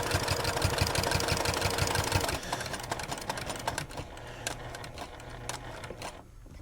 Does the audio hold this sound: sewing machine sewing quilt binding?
yes